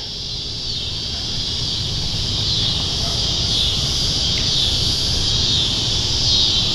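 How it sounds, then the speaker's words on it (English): Birds and insects in a residential neighborhood with mature trees, a steady high-pitched chirring chorus that stays constant throughout under a low rumbling background. "You can hear all the birds."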